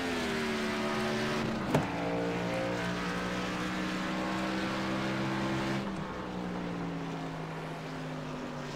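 Pickup truck racing engine in iRacing at Phoenix International, droning steadily with harmonic whine, a sharp gear shift near two seconds and the pitch sagging and lifting again as it exits a turn.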